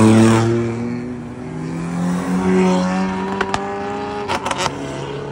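Brazilian performance car engine roaring and revving loudly, strong harmonic drone rising and falling, with sharp blips and crackles toward the end.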